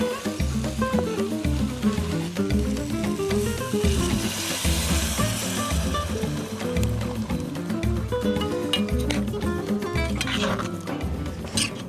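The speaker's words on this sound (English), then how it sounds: "Now that we've just deglazed the pan with a little bit of liquid" Mushroom liquid hisses and sizzles steadily in a hot pan being deglazed, close and loud, with music with a rhythmic bass line playing underneath throughout.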